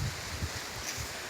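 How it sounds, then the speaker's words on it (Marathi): Stormy wind gusting steadily outdoors at dusk, with a broad, continuous rush and low rumbling buffets against the microphone, leaves rustling through it; no voices. "बघा, वादळी वारा चाललाय."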